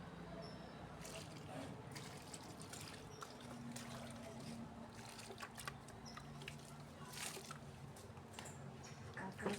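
Rainwater is poured over a newly planted orange plant in a soft, faint, continuous trickle, with low outdoor background noise around it.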